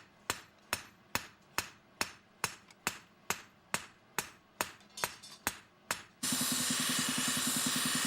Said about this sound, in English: he pounds both sides of the knife to create the correct shape.